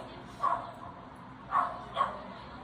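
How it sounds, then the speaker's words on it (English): Dogs bark three times in sharp, mid-pitched yips, separated by short pauses. They sound moderately close over a low, steady background hum. "Dogs."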